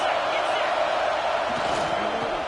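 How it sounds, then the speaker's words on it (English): A football stadium crowd at a Nebraska game keeps up a steady, loud, continuous roar that fills the whole clip, with no single voice standing out. "This crowd trying to make life miserable for this offense."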